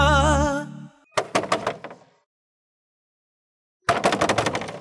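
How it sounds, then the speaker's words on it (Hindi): Loud banging on a door in a drama episode, a burst of rapid heavy thumps after a sustained tone, a pause, then another rapid volley of close, forceful knocks. "कौन है जो इतनी जोर जोर से दरवाजा पीट रहा है?"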